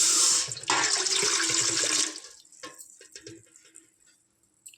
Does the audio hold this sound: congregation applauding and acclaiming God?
no